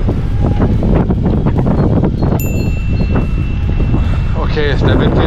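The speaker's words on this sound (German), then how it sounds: "der Wind geht nicht mehr weg" Strong wind buffets the microphone during a mountain bike ride on home trails, making a dense, continuous low rumble with gusty bursts, and a voice is faintly present underneath.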